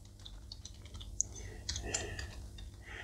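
Typing on a computer keyboard at a desk, quiet, soft irregular key clicks with a few sharper taps, close and alone.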